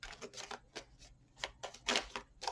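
Tarot deck being cut and shuffled by hand, a series of soft, close papery riffles and slaps in irregular bursts, with a louder flurry near the end and no talking.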